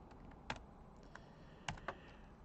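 Computer keyboard typed on while writing CSS code: a few scattered, soft keystrokes with two brief double-tap clusters, faint and close over a steady background hiss.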